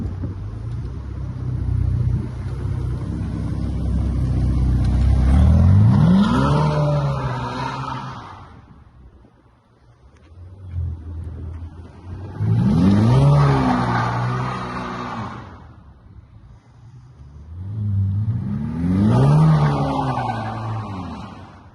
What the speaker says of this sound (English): today I'm here in this awesome Ferrari F8 Tributo that I rented for a couple days